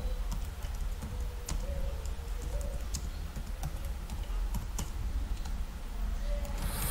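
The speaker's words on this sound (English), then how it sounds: "I am here typing congratulations," Keys clatter steadily on a computer keyboard while an email body is entered, a quiet run of irregular clicks over a soft room hiss with no talking.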